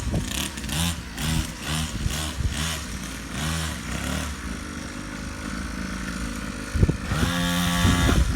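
A Syx Moto Holeshot 50cc dirt bike engine runs nearby, putting out a buzzing idle with rhythmic pulsing revs, then rising louder toward the end.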